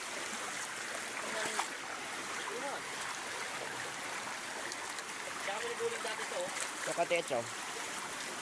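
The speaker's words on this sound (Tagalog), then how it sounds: "waterfalls ang baba, sunod-sunod na waterfalls" Small creek running over a series of little waterfalls, a soft steady rush and trickle of water heard from nearby, with brief speech near the end.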